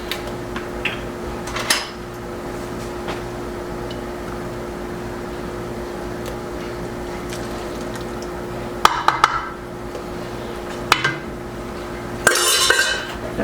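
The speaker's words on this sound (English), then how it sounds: "Now stir that all together." A spoon stirs heavy cream into broccoli soup in a pot, giving a soft steady scrape with a few sharp metallic clinks against the rim, loud and close with no voices.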